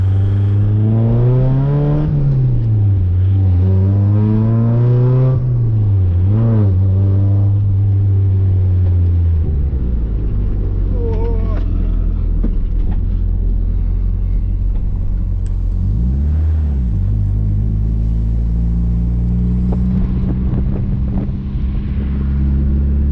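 A loud, deep custom axle-dump exhaust on a Mazda Miata revs repeatedly, rising and falling in pitch, then settles into a heavy rumbling drone with wind noise.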